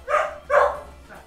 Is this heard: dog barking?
yes